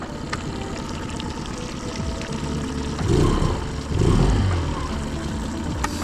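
A Mercury 9.9 HP outboard motor on a lake runs close by with a steady idle hum, swelling twice briefly as the throttle is blipped, water and ambient noise around it.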